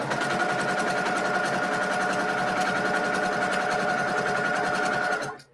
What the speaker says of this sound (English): this is called assembly line sewing, where you just sew